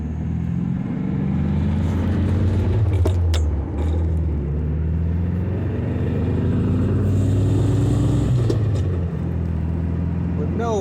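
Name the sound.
1970 Volkswagen Beetle driving down the street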